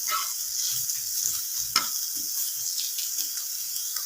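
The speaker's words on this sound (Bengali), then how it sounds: "একটু নেড়ে চেড়ে হালকা করে ভেজে নেব।" Vegetables being stirred and lightly fried in a pan, giving a steady close sizzle with scraping stir strokes and one sharper clatter, no voices.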